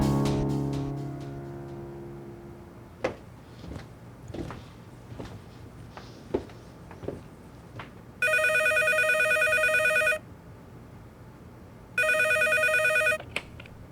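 An electronic telephone rings in two long bursts, loud and close, after a stretch of faint rustling and soft knocks.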